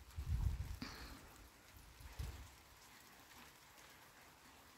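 Autumn rain falling during an outdoor garden walk, a soft steady patter of drops on surfaces, faint and continuous, with a few louder thumps early on.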